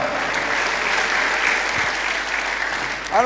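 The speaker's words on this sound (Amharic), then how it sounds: "እስቲ ለኢየሱስ ለአርበኛው አጨብጭቡለት።" A church congregation claps together in a sustained burst of applause, dense and steady through a large hall, fading slightly at the end as a voice begins.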